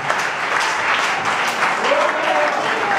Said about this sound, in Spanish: Denle un aplauso a Dios, puede sentarse.